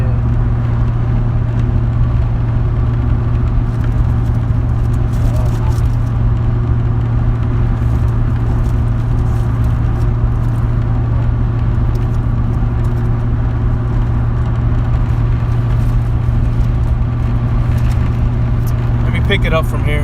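Steady car interior drone while driving, a constant low engine hum running unbroken throughout, with someone talking over it.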